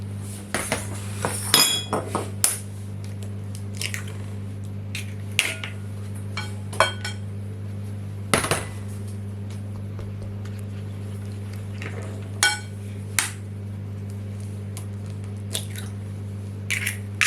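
Eggs going into cupcake batter in a home kitchen: scattered clinks and taps of shells and utensils against a bowl, with soft squishy stirring sounds, over a constant low hum.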